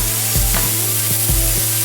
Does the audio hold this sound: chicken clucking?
no